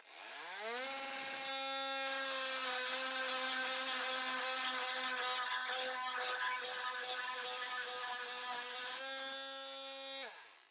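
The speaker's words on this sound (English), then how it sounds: "I've got a 10-penny nail. I'll nail that in here. And now I'll try cutting that off." An oscillating multi-tool with a titanium blade cutting through a 10-penny nail driven into wood, giving a loud, steady high-pitched buzzing whine that holds for about ten seconds before spinning down, close up with no talking.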